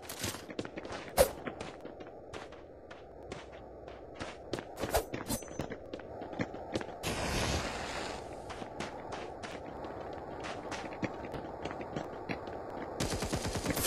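Rapid gunfire from the video game Hyperfront, sharp repeated shots in bursts across the whole stretch, with a dense sustained blast of noise partway through and a final burst at the end.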